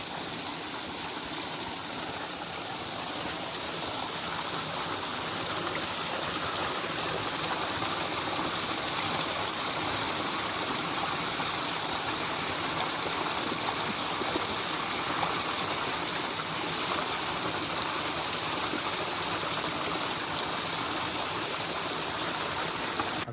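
Stream water rushes steadily beside a hiking trail on the Devil's Staircase route, a constant broad wash of flowing water, close and unbroken for the whole stretch.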